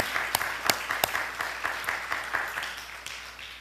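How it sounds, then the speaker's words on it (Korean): A church congregation applauding, steady scattered clapping with a few sharper claps standing out, heard from a short distance. "우리 격려와 축복의 박수를 함께 하겠습니다"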